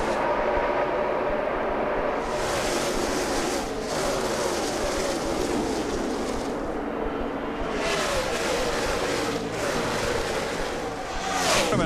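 NASCAR stock cars roar past at Texas during the 2009 Samsung 500, a loud continuous engine din that swells and fades in waves as packs of cars sweep by.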